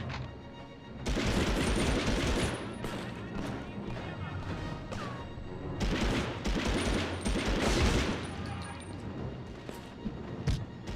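Submachine gun fire in the 1999 Medal of Honor video game, repeated bursts of rapid shots with crashes and booms, loud and sustained, with a voice speaking briefly.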